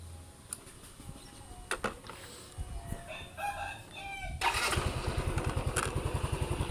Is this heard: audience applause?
no